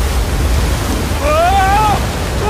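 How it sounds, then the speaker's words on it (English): A steady, loud waterfall roar fills the scene in the video game Uncharted 4, a constant rushing wash with brief tonal game sounds rising over it near the end. "Waterfall! Waterfall!"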